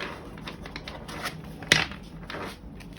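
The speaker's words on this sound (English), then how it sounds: "that wasn't a good riffle shuffle" Riffle shuffle of a foil-backed Illustrated Somnia Tarot deck, close and fairly quiet: soft fluttering card patter with one sharper snap midway, clumsy rather than smooth.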